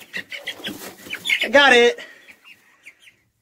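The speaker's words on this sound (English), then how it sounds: "We'll go wrangle some chickens." A chicken clucks and squawks loudly up close as it is caught, one sharp burst standing out, with a person talking over and around it.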